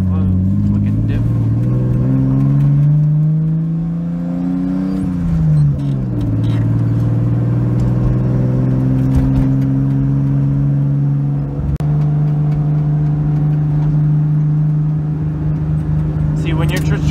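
A right-hand-drive Nissan 240SX cruising with an engine misfire, its steady droning hum shifting pitch with throttle and broken by occasional uneven stumbles, loud inside the cabin.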